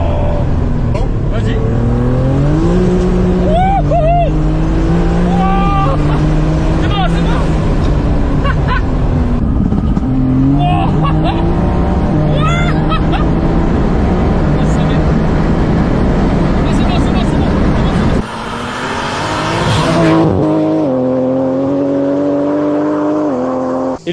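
850 hp BMW E36 accelerating hard, the engine note climbing steadily through long pulls with a brief drop as it shifts, loud and close inside the car with people talking over it.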